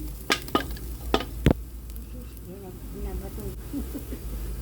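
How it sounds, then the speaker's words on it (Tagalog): Onion and garlic sautéing in a pan for spaghetti: a few sharp clanks of a utensil on the pan at the start, then a soft, low sizzle with light stirring scrapes, fairly faint in a quiet kitchen. "gisa ako ng sibuyas, bawang"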